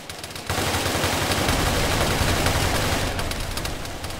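Sustained burst of MP5 submachine gun fire in a video game, a dense continuous roar of rapid shots lasting several seconds before easing off, loud and close with no talking over it.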